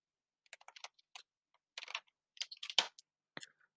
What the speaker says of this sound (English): Just typing it again and seeing it.